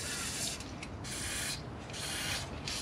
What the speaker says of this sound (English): Spraying with a bit of good old